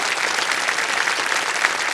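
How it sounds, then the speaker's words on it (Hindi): Studio audience applause at a Hindi television quiz show, steady and dense, filling the whole stretch at an even level with no break and no voices over it. "तालियां बज जाए।"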